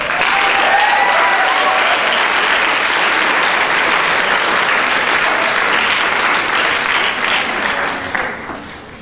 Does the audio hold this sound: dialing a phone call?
no